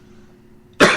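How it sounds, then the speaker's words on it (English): After a near-silent moment, a single sharp cough bursts out loudly and close at the very end. "I cough whenever I do this voice"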